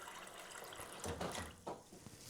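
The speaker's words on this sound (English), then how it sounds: "let's see how it's picking up me filling up my coffee mug with water" Tap water runs into a coffee mug in a kitchen, a soft steady stream with a few louder splashing surges, close by and with no talk over it.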